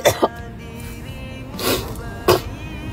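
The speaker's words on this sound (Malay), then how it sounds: "Sekejap saya nak batuk." A few short, harsh coughs, close by: two quick ones at the start, then two more spaced out, with quiet room noise between.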